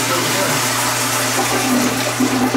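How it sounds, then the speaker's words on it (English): A toilet and a ProFlow urinal flush together in a restroom at Mulberry Lofts in Hagerstown, Maryland, giving a steady, loud rush of water that runs the whole time, with a voice speaking over it. "Oh, we flush at the same time."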